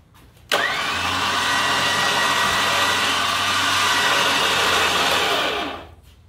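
A Smittybilt electric winch on a 2016 Chevrolet Colorado Gofab bumper whirs steadily as its motor spools in cable, starting abruptly with a rising whine, holding a loud, even drone for about five seconds, then winding down and stopping.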